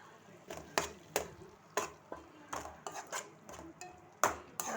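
Spoon scraping and clattering against a pan while cooked mutton is mixed into macaroni, a series of sharp metallic knocks and scrapes at an uneven rhythm, close and fairly loud.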